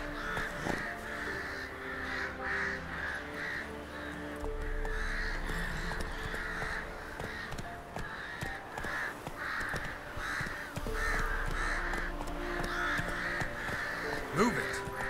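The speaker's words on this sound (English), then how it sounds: "Scared of the crows, I think." Crows caw repeatedly in The Witcher 3 on PC, harsh calls scattered across the whole stretch over a steady background game ambience.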